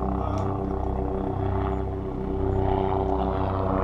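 A helicopter flying overhead near a GE 2.3 wind turbine, a steady low rotor and engine drone with strong harmonic hum that swells slightly toward the end, no talk.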